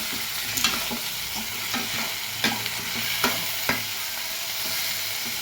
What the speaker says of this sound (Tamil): நல்லா இப்போ வதக்கிக்கிட்டே இருக்கணும்